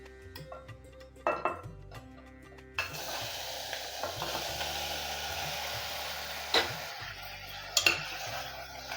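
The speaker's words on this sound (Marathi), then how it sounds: "हे स्वच्छ धुवून घेतलेलं मटण घालतो त्याच्यामध्ये" Washed mutton goes into a pan of hot ghee tempering. After a few quiet seconds with light clinks, a steady broad sizzle starts abruptly and continues, with a few sharp utensil taps.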